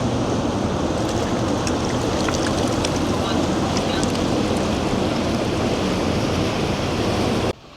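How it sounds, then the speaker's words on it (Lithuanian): Small modern boats move along a canal in the town of Voerde on a summer day, giving a constant broad rushing rumble of engine and churned water that stays loud and steady throughout. "Tokie modernūs laiviukai."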